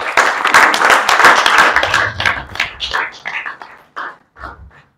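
Audience applause at a speech event, loud and close at first, then thinning out into scattered individual claps that taper off and stop near the end.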